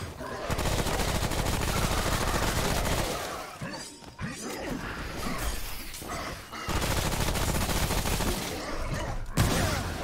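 Gunfire from the video game Remnant: From the Ashes comes as dense, rapid automatic bursts, loud and sustained. There are two short breaks between volleys, and a faint voice is heard under the shooting.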